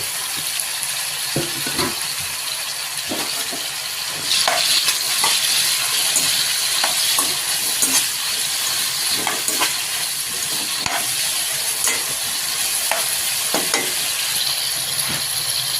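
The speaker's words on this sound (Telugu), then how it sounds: "నూనె వేడెక్కిందండి వంకాయలు ఇందులో వేసుకుందాం" Brinjal pieces with green chillies frying in hot oil for a brinjal fry, a constant close sizzling hiss broken by scattered clinks and scrapes of a spoon in the pan.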